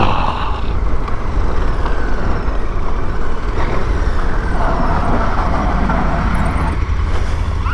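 A 2021 KTM 1290 Super Adventure motorcycle ridden at 50 on a rough Welsh road, a loud steady roar of engine, tyres and wind buffeting that continues unbroken from close up.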